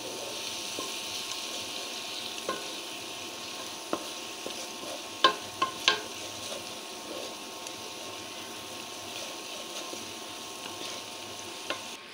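Spices for vegetable khichuri frying in a pot, a steady low sizzle with occasional spoon scrapes and clicks, close and fairly quiet, no talking.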